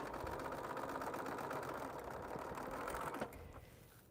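A sewing machine runs steadily while chain piecing quilt block pieces, a close, continuous rapid whir that stops abruptly after about three seconds, leaving faint background noise.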